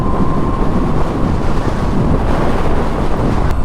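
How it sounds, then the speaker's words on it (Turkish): Loud, constant wind roar buffeting the microphone while riding a Moto Guzzi V7 Stone motorcycle, a dense rushing rumble that doesn't let up, with no voices. "çok rüzgarlı ya."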